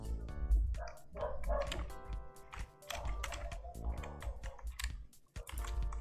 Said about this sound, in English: I hear the neighborhood dogs barking.